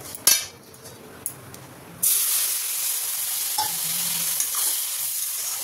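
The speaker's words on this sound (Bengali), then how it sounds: "সুজিটাকে বেশ ভালো করে ভেজে নিতে হবে, লাল লাল করে আগে সুজিটাকে ভাজবো" Semolina stirred and fried in a pan, a steady broadband sizzle that rises abruptly partway through and then holds loud and continuous, with a few scraping clicks of the stirring spoon and no talk.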